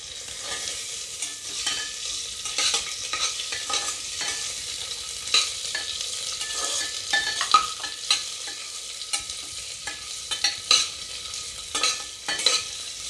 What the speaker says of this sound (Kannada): ಈರುಳ್ಳಿದು ಕಲರ್ ಚೇಂಜ್ ಆಗುವವರೆಗೂ ನಾವು ಇದನ್ನು ಫ್ರೈ ಮಾಡ್ಕೊಳ್ಳೋಣ.